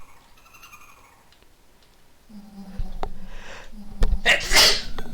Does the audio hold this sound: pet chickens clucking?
no